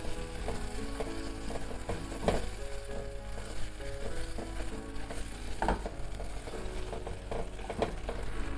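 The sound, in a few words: butter added to caramelized sugar, stirred fast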